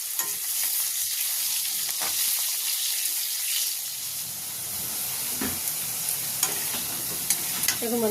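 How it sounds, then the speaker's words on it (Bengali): Cut potatoes frying in hot oil in a home kitchen, a constant bright sizzle and hiss with occasional stirring clicks and spatters, close and steady, no voices. "ওই তেলের মধ্যে কেটে রাখা আলুটা ভেজে নিচ্ছি।"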